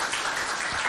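An audience applauds at a school competition in Doba, Chad, a brief burst of steady crowd clapping heard for under a second.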